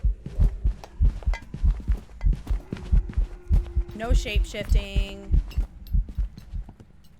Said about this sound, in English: the Raiju ghost type will make your heartbeat sound really bass boosted and crunchy